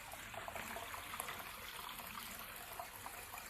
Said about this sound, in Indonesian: Ini air terjun buatan ya teman-teman.